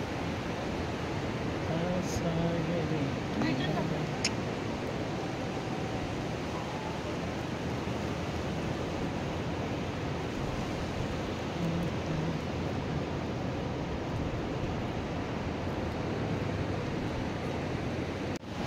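Sea waves wash steadily onto a beach, a continuous broadband surf roar holding an even level throughout, with faint voices occasionally showing through.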